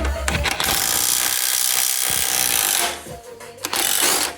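Loud rattling buzz of a powered 24mm socket driver working a tight bolt on a Triumph Rocket 3 motorcycle, a sustained burst with short clattering bursts before and after.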